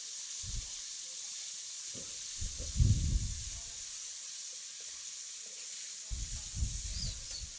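Onion dropped into hot oil on a wood-fired clay village stove sizzles with a steady hiss, with low crackling bursts and bubbling that swell and fade several times and no voice over it.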